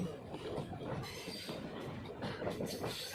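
A train runs along the railway line near Vijayawada, where a third line is being built. It makes a steady rumbling roll with faint rail noise at moderate distance, with no voices.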